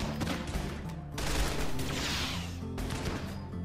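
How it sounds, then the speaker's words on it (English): Gunfire in the video game RimWorld: dense bursts of rapid shots and rattling fire in a continuous, loud barrage with a brief surge midway, no talk over it. "And here they are gonna get shot."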